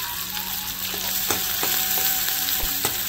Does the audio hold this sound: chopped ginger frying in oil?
yes